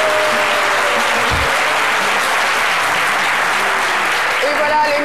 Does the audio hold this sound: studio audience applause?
yes